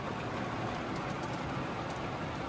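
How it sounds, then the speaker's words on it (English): Hard rain drums steadily on a van windscreen during a storm, a dense, even hiss of close impacts with no pauses and no voices. "A little bit of hard rain going on here."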